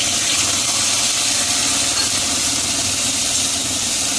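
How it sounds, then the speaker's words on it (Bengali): Ground poppy seed paste dropped into hot oil in a pan, producing a loud, continuous, close sizzling hiss with a low rumble beneath, no talk. "এই পোস্তটা এবার তেলের ভিতরে দিয়ে দেবো"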